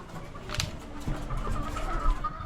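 Hens clucking softly nearby during egg collection, a few short calls over a low background of farmyard noise.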